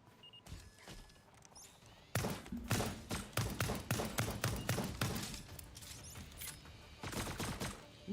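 Turret gunfire in the video game Lost Skies, rapid bursts of sharp shots in irregular clusters, fairly loud against faint background sound.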